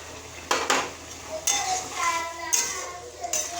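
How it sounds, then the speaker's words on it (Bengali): Liquid sweetener and mustard paste water go into a pan of vegetable curry, with clinking of a metal utensil against the pan, stirring and light scraping; faint voices sound in the background. "এর মধ্যে এবার দেবো সামান্য একটু মিষ্টি, আর দেবো এখানে সর্ষে বাটার জল।"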